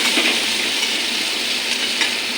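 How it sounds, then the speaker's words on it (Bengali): Pumpkin pieces frying in a pan over a lowered gas flame, giving a steady close hiss of sizzling oil that runs evenly for a couple of seconds with no voices. "মিষ্টি কুমড়টা আমার ভাজা ভাজা হয়ে গেছে"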